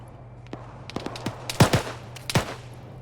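Gunfire in the military video game Arma 3, a scattered exchange of sharp single shots and short bursts at mixed distances, with a few louder close cracks over a constant low hum.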